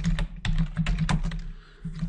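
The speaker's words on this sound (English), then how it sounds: "Let's start by typing table style." Fingers type on a computer keyboard while entering a command in AutoCAD 2015: a quick, close burst of sharp, uneven keystrokes with a brief pause near the end, heard alone.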